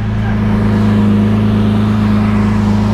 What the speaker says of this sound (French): le bruit, le son d'une Lamborghini Aventador